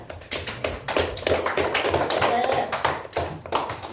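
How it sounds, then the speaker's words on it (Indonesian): A classroom of students applauds a student group, giving sharp, rapid, uneven claps close by for a few seconds. "tepuk tangan untuk kelompok 2"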